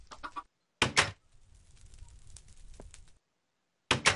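Short bursts of clucking from a chicken in the video game Minecraft, coming in three brief groups that are separated by quiet gaps, with faint game noise filling the stretch between them.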